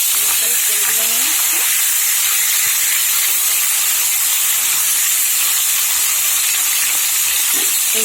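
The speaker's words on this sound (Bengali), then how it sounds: "এইভাবে সব মাছগুলো আমি ভেজে তুলে নেব" Pieces of snakehead fish fry in hot oil with a loud, dense, continuous hiss and crackle, close and unbroken, with faint clinks of a utensil.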